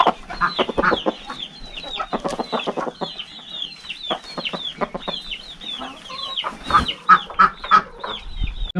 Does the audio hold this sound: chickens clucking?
yes